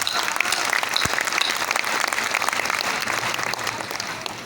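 An audience claps steadily at an education event in a hall, a dense, even wash of applause that holds close and loud for the whole stretch without letting up.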